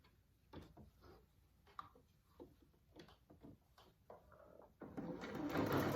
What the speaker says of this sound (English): I'm going to back stitch just because that elastic will see quite a bit of wear